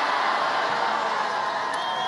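Dense rally crowd cheering and chanting at an outdoor airport campaign event in Michigan, a steady loud roar of many voices filling the whole moment without pause.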